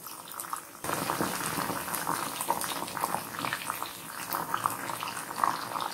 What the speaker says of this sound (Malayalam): നമ്മൾ സോയ ചങ്ക്സ് ഇവിടെ ചെറുതായിട്ടൊന്ന് ഫ്രൈ ആയിട്ടുണ്ട്.